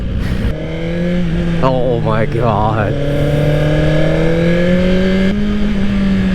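A 2024 Suzuki GSX-R1000R liter-class sport bike idles and revs close by, a steady engine drone rising in two quick throttle blips before settling, with a rider briefly speaking over it.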